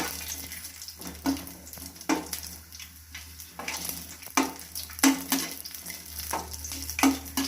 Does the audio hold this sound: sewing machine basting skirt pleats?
no